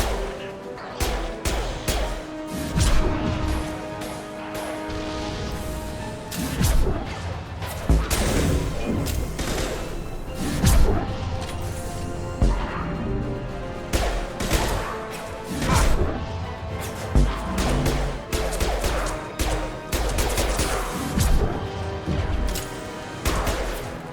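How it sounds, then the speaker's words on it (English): Concussive shot ability firing in Mass Effect 2 amid combat, with repeated heavy blasts, crashes and gunfire bursts spread across a long stretch, loud and near, punctuated by sharp impacts. "Firing concussive shot!"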